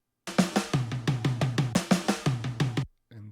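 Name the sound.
drums through amplifier plugin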